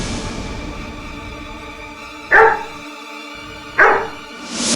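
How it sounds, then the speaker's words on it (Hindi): A dog in a courtroom drama barks twice, two sharp, loud barks spaced about a second and a half apart over a steady background hum. "ये कुत्ता इन्हें देखकर भौंक रहा था।"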